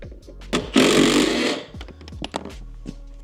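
A 10mm socket loosens seat bolts inside a Ford truck cab, a harsh buzzing burst of under a second followed by scattered metallic clicks and knocks close by.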